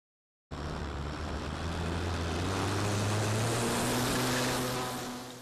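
An RC model plane's electric motor and propeller kick in suddenly and hold a loud, steady buzzing drone with a faint rising pitch, close to the listener and slowly fading near the end.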